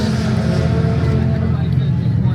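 A BMW drift car with Work wheels runs at a drift event, its engine giving a loud, sustained low rumble and drone close by, with a voice talking over it.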